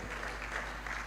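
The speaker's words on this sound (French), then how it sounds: "Alors applaudis pour le Seigneur" A church congregation at a prayer service claps for the Lord, a brief, dense patter of many hands, close and steady for about a second, with no voices over it.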